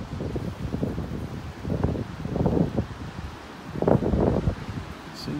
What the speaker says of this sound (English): That wind is blowing out there.